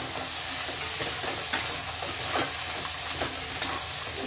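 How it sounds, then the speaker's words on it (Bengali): Vegetables and green peas fry in a pan for winter methi rice under a dense, continuous sizzle, with a spoon stirring and scraping through it at intervals, close and loud, with no talking. "আর এই যে গ্রিন মটরটা রেখেছি এটাও অ্যাড করে দেবো। আর একটু নাড়াচাড়া করবো।"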